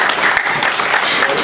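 An audience at a mushaira poetry recital in a school claps steadily, a dense and loud wash of applause for the whole moment.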